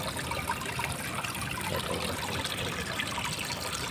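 Steady water trickling and splashing in a small garden mini waterfall, a continuous close, even babble with no voices.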